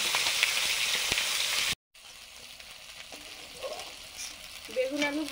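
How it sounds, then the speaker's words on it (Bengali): Eggplant and potato fry in a pan with a loud, close, hissing sizzle that cuts off abruptly, then returns softer and quieter with faint stirring. "বেগুন আলু ভাজা হয়ে গেছে, তুলে নিচ্ছি"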